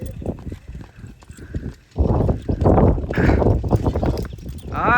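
Horse hooves clip-clop in an uneven rhythm during a traditional horse show, faint at first, then louder and busier from about halfway, with voices murmuring around them.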